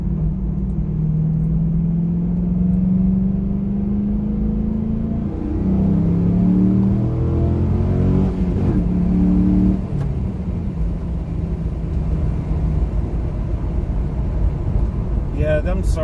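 A 2002 Chevrolet Camaro SS 35th Anniversary accelerates hard in second gear, its V8 engine rising in a loud, steady revving rumble that shifts pitch midway and then settles into a heavy drone, heard from inside the car.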